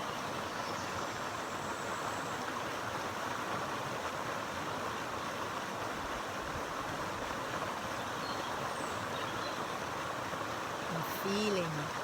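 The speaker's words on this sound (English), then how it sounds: "the sound of this river and these birds" A river flows outdoors in a continuous, steady rushing wash, with a few faint birds chirping near the end.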